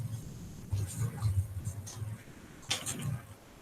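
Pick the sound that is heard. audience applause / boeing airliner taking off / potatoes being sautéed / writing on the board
writing on the board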